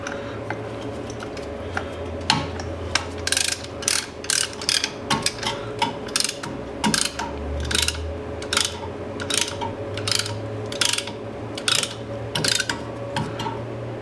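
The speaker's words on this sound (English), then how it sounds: "Now I'm going to compress the caliper piston." A tool compresses the front brake caliper piston on a 2013 Nissan Versa, giving repeated close ratcheting clicks in short bursts over a low mechanical hum.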